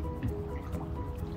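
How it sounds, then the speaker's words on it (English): Water stirred by hand in a cedar hot tub heated by a thermosyphon firewood heater gives soft sloshing and dripping, quiet and continuous, with no talking. "So we'll mix the water just to make sure we"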